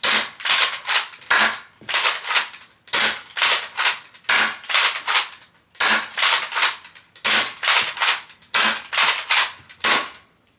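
An Adventure Force Nexus Pro toy dart blaster fires full-length and half-length foam darts in a rapid, evenly spaced string of sharp, loud snapping shots, about two per second, close by with no talking.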